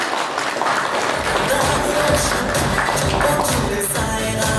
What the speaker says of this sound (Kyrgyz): Агабызга бир кол чабуулар болсун меймандар.